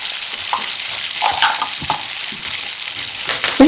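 Mustard seeds, cumin, dried chilies and asafoetida tempering in hot ghee crackle and sizzle loudly and up close, with sharp pops and a brief stirring scrape near the end.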